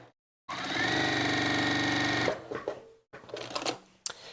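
A sewing machine stitches a quilt in one loud, steady, close burst lasting about two seconds, followed by quieter handling clicks and rustles.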